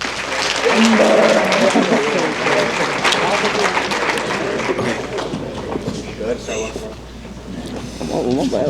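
Applause from a banquet audience at a high school athletic awards night, a steady wash of clapping that swells near the start and holds throughout, with voices talking over it.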